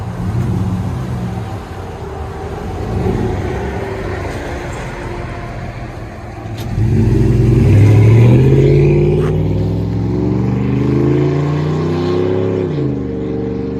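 A lifted 2001 Dodge Dakota SLT with a 4.7-liter V8 and loud aftermarket exhaust, a deep rumbling idle swelling into a heavier, louder rev midway, then settling back, close and steady.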